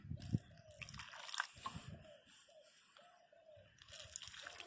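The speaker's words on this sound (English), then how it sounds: "now I take my watering can and give it a little drop of water" Water trickles and splashes gently from a watering can onto small seed pots of compost, with soft intermittent pouring and light knocks, faint and close.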